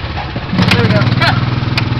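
An off-road vehicle engine on a trail revs hard and close, a rough pulsing mechanical buzz that climbs after a brief lower stretch, with excited voices shouting over it.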